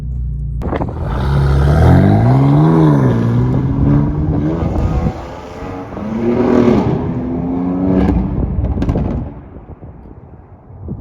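A BMW S55 twin-turbo straight-six with MHD anti-lag pulls hard under acceleration, its engine note climbing through the revs, easing off, then climbing again, loud and close, with no speech.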